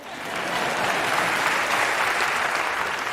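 Steady audience applause from a crowd at a live event, a dense even clatter of clapping that holds loud throughout without pause.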